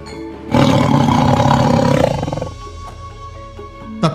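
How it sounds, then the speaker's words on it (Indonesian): Tiger roar as a forest sound effect, a loud, deep, sustained roar lasting about two seconds that fades into a quieter droning background with a soft thud at the end. "Tetapi kesunyian hutan telah terkoyak ketika tiba-tiba terdengar aum harimau."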